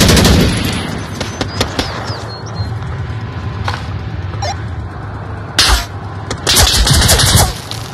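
Gunfire in the virtual reality shooter Onward VR, with rapid bursts of automatic rifle fire and sharp single shots crackling close and loud over a constant background of battlefield noise, with a heavy burst near the end.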